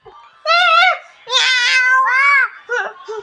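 A cat meows several times up close, with drawn-out, rising and falling calls separated by short pauses.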